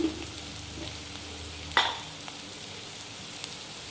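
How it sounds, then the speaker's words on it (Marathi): Onion, garlic, chilli and coconut sautéing in a pan, a soft steady sizzle with one sharp clink of a utensil partway through. "हे कांदा टॅमॅटो बरोबर व्यवस्थित परतून घ्यायचं कांदा लसूण आणि मिरची आणि खोबरं ह्याचं हे सगळं हे परतून झालेलं आहे"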